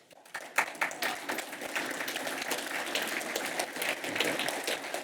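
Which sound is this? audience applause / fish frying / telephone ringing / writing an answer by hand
audience applause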